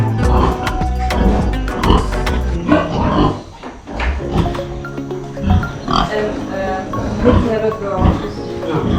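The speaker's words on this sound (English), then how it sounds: "Oh, little baby pig." Small piglets oinking and squealing in a Bali jungle setting, loud grunts mixed with busy background noise and people talking over them.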